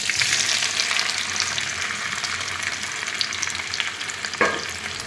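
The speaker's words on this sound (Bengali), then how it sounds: "এবার পনির ভাজা তেলটা আর ঘিটার মধ্যে ম্যারিনেট করা সোয়াবিন, ফুলকপি আর পনিরটা দিয়ে দেবো" Marinated soybean chunks, cauliflower and paneer sizzle steadily in hot oil and ghee for a vegetable biryani, with a constant close frying hiss and occasional stirring scrapes.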